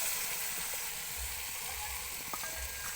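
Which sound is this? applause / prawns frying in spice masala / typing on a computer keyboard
prawns frying in spice masala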